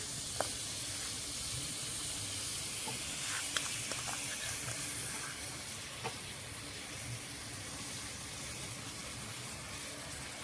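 Milk poured into a hot wok with sesame seeds for Bengali sesame ladoo sets off a steady, even hiss that fills the whole stretch at moderate volume, with a few small ticks and crackles.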